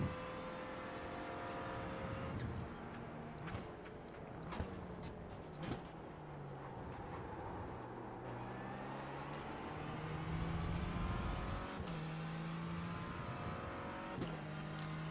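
A Renault Clio race car engine in the iRacing sim at Homestead Miami drones steadily, rising and falling in pitch through gear shifts. Other cars pass nearby as it drafts behind another car.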